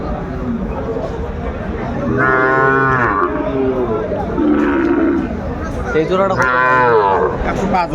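Sahiwal bulls at a busy cattle market give several long, loud moos, one around the middle and another near the end, with crowd chatter and talk underneath throughout.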